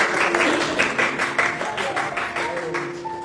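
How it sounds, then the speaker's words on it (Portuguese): A church congregation applauding during a Portuguese-language service, brisk, even clapping from many hands with a voice briefly over it, steady and fairly loud before easing slightly. "Aplauda Jesus pela vida do nosso irmão"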